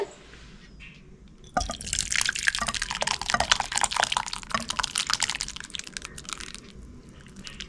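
Homemade chicken soup pours from a pot into a bowl, a steady close liquid splashing and dripping that begins abruptly and runs on alone, with no talk.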